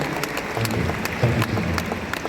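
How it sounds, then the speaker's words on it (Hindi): Audience applause at the opening ceremony of the 53rd International Film Festival of India in Goa, a steady, dense patter of clapping across the whole stretch with no one speaking over it. "सो प्लीज़ प्लीज़ बहुत सारी तालियों के साथ इनके लिए अभिषेक भी हैं"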